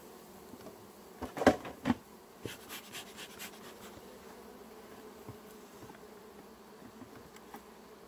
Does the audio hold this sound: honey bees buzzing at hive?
yes